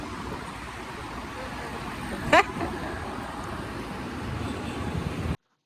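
A car driven home through town traffic, a steady low road and engine rumble from inside the vehicle, broken midway by a brief sharp horn-like squeal before the drone continues and cuts off.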